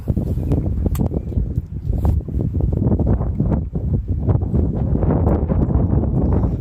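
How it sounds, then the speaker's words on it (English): Heavy wind buffets the microphone in continuous low, rumbling gusts, loud and close, with no voices. "Sorry about the wind in this video."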